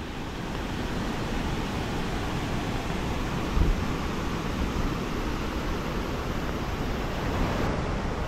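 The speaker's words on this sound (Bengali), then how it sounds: "দেখুন সীতা ফলসটা কিন্তু বেশ উঁচু থেকে পড়ছে জলটা" Water of Sita Falls near Ranchi drops from a height, a steady broadband roar rushing without pause, no voices.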